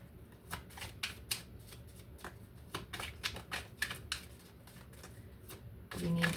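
Tarot cards being shuffled make a quick run of crisp riffling flutters, close and fairly quiet. A duller thump follows at the end.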